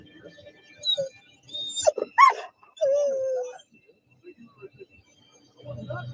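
A dog whimpers and yips in short, high whining bursts close by, mixed with voices of people talking nearby during a tense encounter with police.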